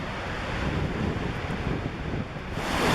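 The Niagara Falls rapids at the top of the Horseshoe Falls give off a steady, dense roar of rushing water, mixed with wind buffeting the microphone. The sound is loud and continuous, with no talk.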